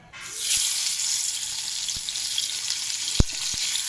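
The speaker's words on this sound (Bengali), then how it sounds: "তেলটা গরম হয়ে গেছে, আমি এক এক করে মাছ ছাড়বো।" Fish slid piece by piece into hot oil, giving a steady loud hiss of frying that runs throughout, with a few sharp knocks and clicks of utensils, close by.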